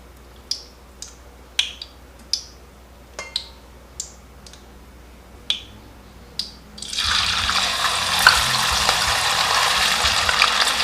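Hot cooking oil readied for deep frying first pops with a series of sharp, separate crackles as water droplets are sprinkled in, then bursts into loud, continuous sizzling that fills the rest of the moment.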